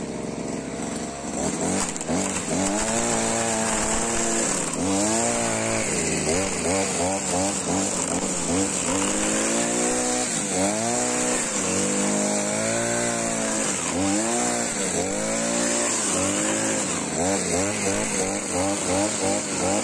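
Gasoline string trimmer fitted with a homemade reel-style line spool, running steadily throughout with repeated revving surges as the throttle rises and falls, loud and close with no talking.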